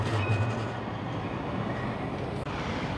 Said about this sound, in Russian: Ой, трамвай едет